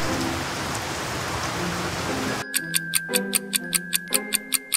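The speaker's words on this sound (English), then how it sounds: "Suddenly rain started to pour down on Marshall." Dense, steady rain hisses and patters for a couple of seconds in a PAW Patrol cartoon, then cuts abruptly to a regular ticking like a clock.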